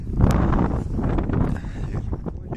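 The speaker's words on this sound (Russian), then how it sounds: "ветер очень сильный" Strong gusty wind roars and buffets the microphone on open ice during a pike fishing trip in a storm, a steady broadband rush with brief knocks and no speech.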